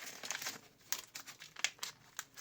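Crinkling of a thin plastic or paper packet being torn open and handled, soft close-up rustles with a few sharper crackles, quiet and without speech.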